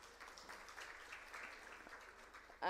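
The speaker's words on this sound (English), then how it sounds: "Let's give him a round of applause" Steady, fairly faint clapping from a seminar audience continues throughout, and a voice cuts in right at the end.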